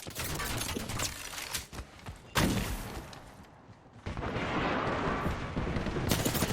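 Gunfire rattles through an Apex Legends match: dense, rapid volleys of shots in close, loud bursts, a short lull, then more sustained firing to the end.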